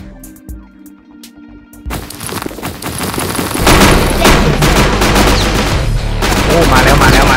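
Sniper fire and gun battle in the video game Gangland: a sharp early crack over quiet game music, then a loud, dense barrage of shots and explosions that builds and holds to the end.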